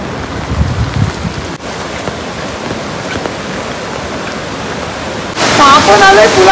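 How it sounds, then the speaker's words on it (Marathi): A flooded village river near Kalamb, swollen after a night of rain, rushes fast beneath a bridge in a loud, steady broadband roar that continues without pause, growing slightly brighter and denser near the end. "हा वेग बघा काहीच पाण्याचा, किती खतरनाक वेग आहे पाण्याचा."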